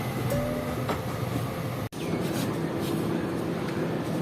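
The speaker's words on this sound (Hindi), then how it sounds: "तो तकरीबन 7:45 बजे ट्रेन ने चलना शुरू कर दिया है घोटकी रेलवे स्टेशन से" A passenger train pulls out of Ghotki railway station, heard from inside a carriage as a steady rolling rumble with rattling of the car, briefly interrupted by a momentary dropout.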